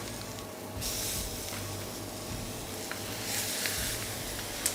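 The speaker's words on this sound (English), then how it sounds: "Very important to hear the sizzle." Lamb porterhouse sizzles steadily while searing in a hot pan, a broad crackling hiss with brief louder bursts of spitting fat, no talking.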